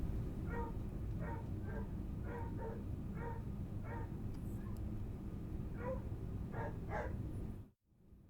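A dog barks repeatedly at a distance, faint and irregular, over a steady low background hum that cuts out abruptly near the end.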